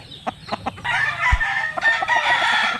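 A gamefowl broodcock crows loudly and close by, a drawn-out cock-a-doodle-doo that follows a few short clucks, with no voices over it.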